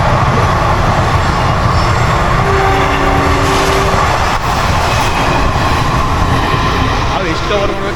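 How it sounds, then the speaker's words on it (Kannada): A train passes close by on a rural line in Karnataka, a loud continuous rumble and rattle of wagons with a brief horn-like tone, filling the whole stretch steadily. "ಟ್ರೈನ್ ಹೋಗ್ತಿದೆ."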